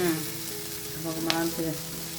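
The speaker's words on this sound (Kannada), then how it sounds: "ಇದನ್ನ ಲೋ ಫ್ಲೇಮಲ್ಲಿ ಒಂದ್ ನಿಮಿಷ ಹುರ್ಕೊಳ್ಳೋಣ" Spice masala roasting on a low flame in a pan: a steady soft sizzle and crackle, with a brief scrape of stirring midway, close and continuous, with no talking.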